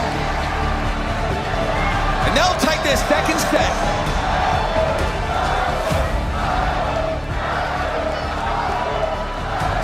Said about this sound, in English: the crowd are still cheering loud